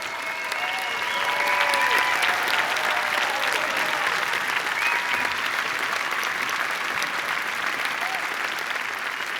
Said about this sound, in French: de vous mettre debout et de faire une ovation pour la BPI France